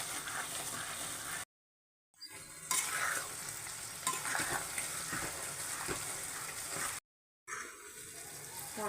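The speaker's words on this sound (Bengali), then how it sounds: "মশলাটা এবার একটু একটু করে মিশিয়ে দেব।" Spices are stirred into jujube pickle bubbling in sugar syrup, a continuous wet sizzle with stirring scrapes that is broken by two short silent gaps.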